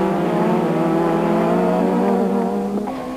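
Touring cars racing at Port Elizabeth in the 1994 South African Touring Car Championship, an Opel Astra among them, engines holding a loud sustained high whine, close and steady, with a brief shift blip near the end.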